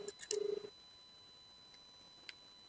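A telephone number is dialed on a keypad: a quick run of short tones at the start, then quiet, with one faint extra beep near the end.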